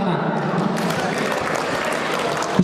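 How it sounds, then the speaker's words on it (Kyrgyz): An audience at a village wedding celebration in Papan claps together in dense, continuous applause, loud and close, with voices mixed in. "Туугандар, сиздер өзүңүздөрдүн бир туугандарыңыздар үчүн кол чабыңыздарчы"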